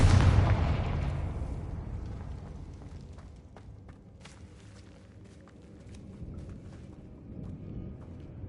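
A Confringo spell explodes in the Hogwarts Legacy video game, a loud fiery burst that rumbles and decays over several seconds, followed by faint debris clicks and crackles with no talk.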